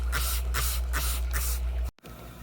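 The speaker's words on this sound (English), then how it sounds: "And I'm just going to spray right into the tank here on the bulbitis." Four rhythmic hisses of a trigger spray bottle spraying hydrogen peroxide into an aquarium, evenly spaced and close, followed by a brief clunk and quiet.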